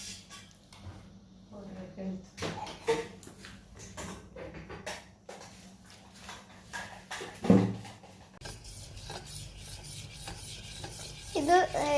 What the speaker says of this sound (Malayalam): ഇങ്ങനെ കൈ എടുക്കാതെ അനക്കണം, മീൻസ് ഇളക്കണം.